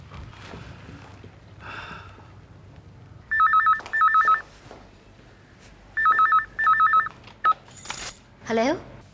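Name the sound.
telephone ringing during a phone call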